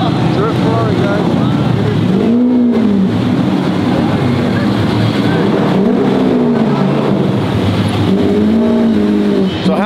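Engine of a Ferrari drift car at a Formula Drift event, a loud sustained roar that rises and falls in repeated revving sweeps, heard close with a voice speaking over it.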